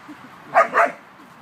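Playful puppies nipping at each other, giving two short yips or barks close by in the middle of an otherwise quiet moment.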